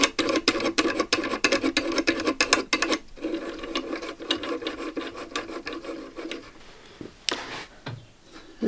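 Tormek TT-50 truing jig mechanism being wound back to its starting position, a steady rasping, ratcheting mechanical rub for about three seconds, then thinner intermittent scraping and a few faint clicks, close and fairly quiet.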